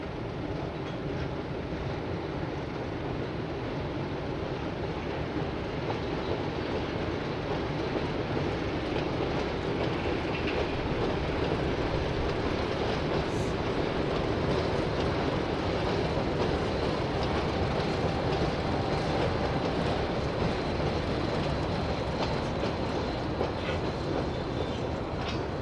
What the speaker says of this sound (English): Crossing the road rail bridge at Hindon at the end of the day's events as the train returns